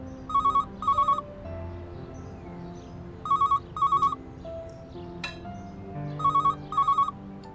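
A phone rings in three repeated pairs of bright, chirping electronic bursts, moderately close, over a quiet room tone with faint kitchen clatter between rings.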